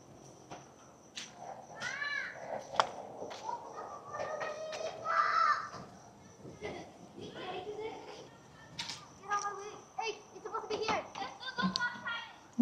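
Children playing outside on a residential street in the Philippines, with scattered kids' voices, shouts and chatter at a moderate distance, alongside occasional footsteps and crows cawing in the background.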